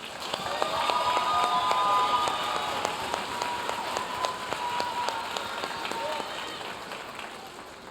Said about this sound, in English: Let's celebrate their hard work with a well-deserved round of applause.